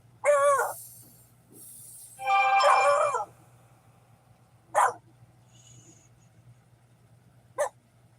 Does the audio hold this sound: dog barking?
yes